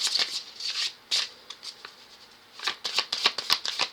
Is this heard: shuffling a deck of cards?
yes